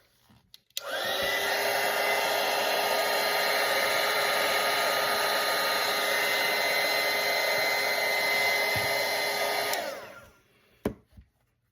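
A hair dryer dries a watercolor painting, switching on with a click and blowing in a loud, steady roar for about nine seconds before cutting off, followed by a couple of small knocks.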